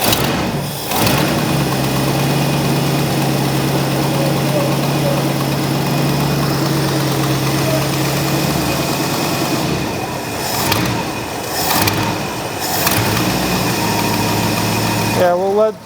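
A 1969 Ford LTD that sat unused for years idles steadily with a constant low hum and a faint whine, with a few brief louder bursts of clatter near the end.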